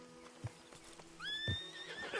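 In the western game Red Dead Redemption 2, a horse snorts and stamps close by, then gives a rising, shrill whinny near the end. The sounds are moderately loud over a quiet background.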